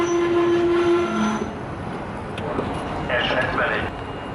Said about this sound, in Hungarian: S72-es gyorsított személyvonat Esztergomba a 3.